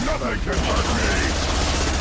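Rapid gunfire in the video game Mass Effect 2 crackles in a dense, loud burst, with a voice mixed in during the shooting.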